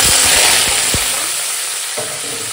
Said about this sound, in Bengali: সর্ষেটা আগে চটকা, দেখো সর্ষেটা এখন চটকাচ্ছে